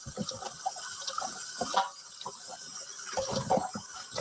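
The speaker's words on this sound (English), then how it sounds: "I'm using cold water." A steady stream of cold water from a kitchen tap runs over meat being rinsed, a continuous close gush with small splashes and gurgles throughout.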